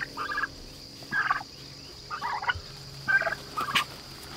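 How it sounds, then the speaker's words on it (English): Several domestic turkeys on a small farm gobble in short, separate bursts, five rattling calls spaced about a second apart, fairly close and clear with no talking. "Now these turkeys are the ones,"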